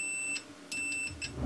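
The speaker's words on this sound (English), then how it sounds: "you hear the multimeter beep." Three short, high electronic beeps sound in quick succession, separated by brief pauses, like a multimeter's continuity tester.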